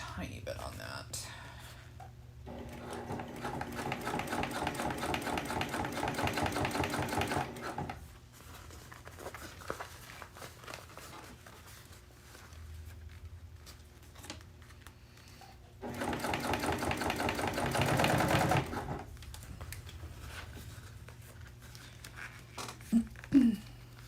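A sewing machine stitching a bag pattern runs in two fast, buzzing bursts of a few seconds each, close and clear, separated by quieter pauses with soft handling noises and a faint voice.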